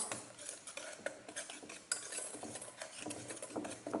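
A utensil stirs cocoa powder and a pinch of salt in a small saucepan, giving quiet, close scraping and clinking strokes in an uneven rhythm.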